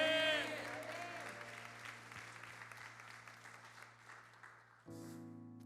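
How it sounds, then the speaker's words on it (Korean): Congregation applauding during a New Year's Eve church worship service: sustained clapping from a large crowd over lingering organ or keyboard tones, which fade before music swells back in near the end. "우리 인생으로 하여금 승리케 하신 우리 주님께 감사와 영광의 박수 올려드립시다"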